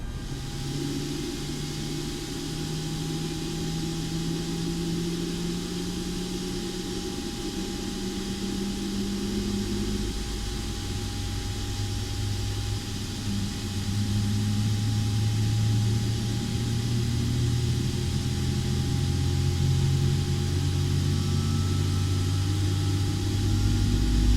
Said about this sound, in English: Now we're firing up engine number 1.